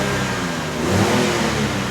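A Lexus car engine revving under throttle, a loud, rough, continuous roar rising briefly in the middle, heard close up with no talking.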